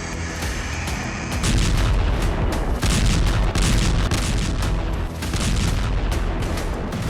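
Russian missile strike on Dnipro, Ukraine's military and industrial hub, sets off a rapid series of heavy explosions and booms, loud and continuous over several seconds with sharp cracks layered on a rumbling roar.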